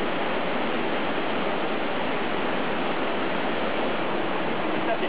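A jungle waterfall and rushing stream swollen by overnight rain in the Cameron Highlands pour in a steady, dense roar, loud and close with no other sounds.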